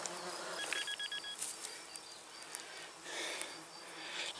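Flies and other insects buzz around a person outdoors during metal detecting, a steady hovering drone with a few closer passes swelling louder, no talking.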